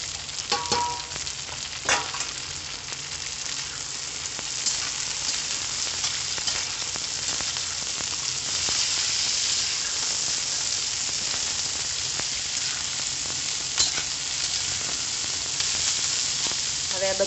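Capsicum, cabbage and onion sauté in a pan for pasta, a dense continuous sizzle with scattered crackles and occasional stirring clicks, close and steady throughout with no voices.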